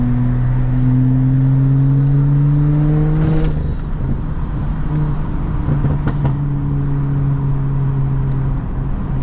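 A rear-wheel-drive BMW 435i with stage 2+ tuning cruises a New York City highway, its engine droning loudly and steadily from inside the cabin with gradual pitch rises as it pulls, plus a couple of brief clunks from the road.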